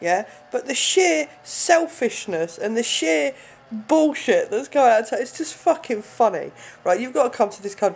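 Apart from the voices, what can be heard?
No distinct noise like a dog, phone or traffic.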